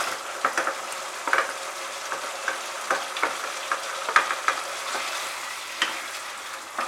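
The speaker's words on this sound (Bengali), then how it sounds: "এবারে আমি এর মধ্যে ভেজে রাখা সবজিটা দিয়ে দিচ্ছি।" Fried vegetables and paneer go into a sizzling pot of vegetarian biryani made without onion or garlic, with a steady frying hiss punctuated by irregular scraping stirs and clinks of a spoon against the pot.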